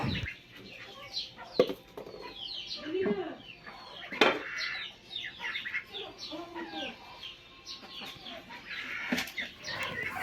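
Chickens and ducks cluck and chatter close by, with a few brief wing flaps and scattered sharper calls over a quiet farmyard background.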